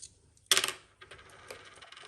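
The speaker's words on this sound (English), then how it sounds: "So let's roll these 2 dice" Two dice tossed onto a hard surface: a sharp clatter of small bouncing impacts, then lighter rattling taps as they settle, close and fairly quiet.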